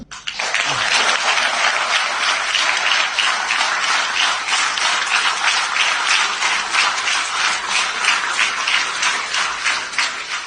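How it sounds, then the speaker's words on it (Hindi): A large crowd at a Pakistani political speech claps in sustained, thick applause, loud and near, with a faintly rippling rhythm running through the continuous roar of hands. "लोगों ने इतनी ताली बजाई है"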